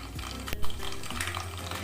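Mustard seeds splutter in hot sesame oil in a kadai while mango pickle is being made, a close continuous sizzle with a few pops and a brief spoon clink against the pan.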